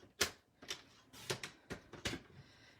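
Card paper being cut down the middle for a pinwheel Christmas card: five or six sharp, close snaps and clicks at uneven intervals, with no talking.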